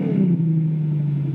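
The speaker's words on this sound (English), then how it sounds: "Of course, I straight piped it as well, and this being a 6-litre V12, as you can hear." A straight-piped 6-litre V12 car engine, fitted to a luxury limousine, gives a deep, loud, close exhaust rumble that slowly settles in pitch after a brief rev, with no voices over it.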